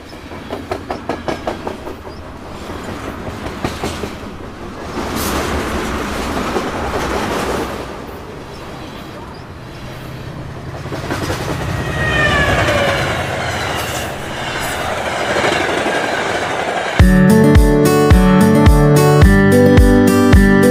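A passenger train runs through a station on the Baroda to Delhi route, rhythmic clickety-clack of wheels at first, then a loud rumbling roll with squealing wheel tones and a sharp metallic jolt near the end.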